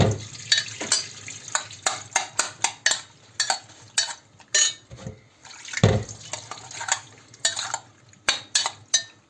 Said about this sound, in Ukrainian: Отак виливаємо, то тобто і промиваємо чистою водою.